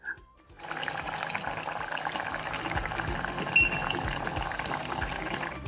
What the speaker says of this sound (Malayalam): മീൻകറി ഇപ്പം നന്നായിട്ട് തിളച്ചിട്ടുണ്ട്